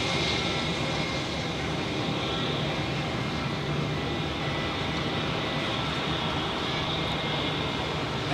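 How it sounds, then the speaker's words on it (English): A Swiss A321neo taxis at Zurich Airport, a constant, fairly loud jet whine and rumble with no breaks, heard from outdoors at a moderate distance. "the Swiss A321neo taxiing on Foxtrot"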